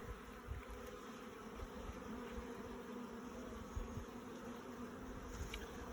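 Honeybees buzz steadily during a beehive inspection, a dense continuous hum close by with faint handling noises and no talking.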